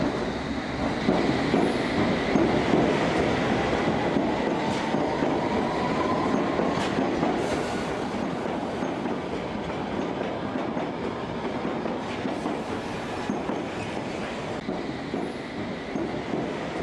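A train rolls steadily through a railway station, a continuous loud rumble with wheel clatter and occasional faint squeals, no voices.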